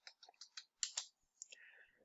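Keys on a computer keyboard tap in a quick, light burst of clicks during a software tutorial, faint and close, with a soft hiss toward the end.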